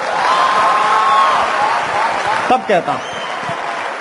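A live audience applauds a Hindi poem recitation by a poet at a motivational talk, with steady broadband clapping throughout and someone speaking over it near the end.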